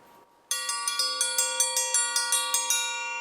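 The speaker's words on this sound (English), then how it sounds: "Look at this giant triangle. You think it's like the dinner bell?" A giant metal triangle dinner bell struck about a dozen times in a steady rhythm, bright ringing overtones sustaining and building between strikes, loud and close, at a remote wilderness campsite in Arizona.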